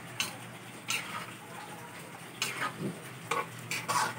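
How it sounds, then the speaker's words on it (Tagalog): Crispy tofu sisig being stirred in a pot, a steady sizzle beneath repeated scraping strokes of a utensil that come in irregular bursts, close and moderately loud, with no talking. "Crispy sizzling tofu."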